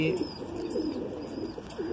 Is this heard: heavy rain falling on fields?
no